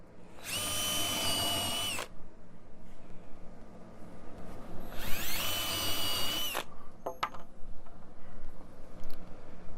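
A DeWalt power drill whirs in two sustained bursts of about one and a half seconds each, driving screws into a rain screen structure, close and loud, followed by faint tapping and handling noise.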